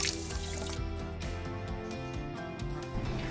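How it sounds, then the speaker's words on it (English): Water poured into the inner and outer rings of an infiltrometer during a soil infiltration test, a steady splashing pour with dripping and trickling throughout. "add the water into the outer and inner ring at the same time"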